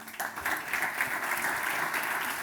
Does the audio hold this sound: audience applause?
yes